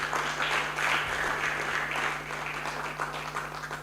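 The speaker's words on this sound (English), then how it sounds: "Please give them a round of applause." An audience at a student anti-corruption awards ceremony gives a round of applause, a sustained, moderately faint patter of many hands over a steady electrical hum.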